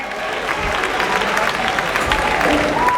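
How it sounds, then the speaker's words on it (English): Sustained crowd applause for Alan Kyerematen, leader of the Alliance for Revolutionary Change, at its launch event, a dense steady wash of clapping filling the whole stretch with a faint tonal hum underneath. "A round of applause, ladies and gentlemen, for the Honorable Alan Kojo Kyerematen,"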